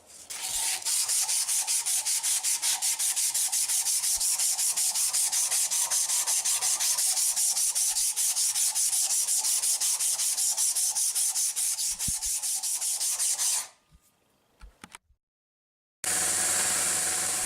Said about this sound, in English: There I am rounding it off a bit on the machine